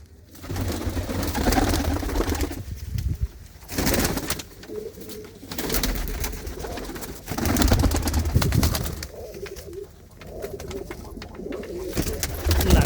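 Pigeons coo in repeated low, throaty bursts over several seconds, fairly close, with a soft background hum and no clear talk.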